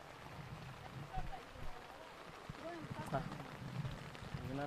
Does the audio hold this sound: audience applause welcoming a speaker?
no